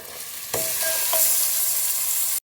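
Bone-in beef, about 1.5 kg, frying in a pot with crushed spices, a loud close steady sizzle with a few stirring scrapes near the start, no voices, cut off abruptly at the end.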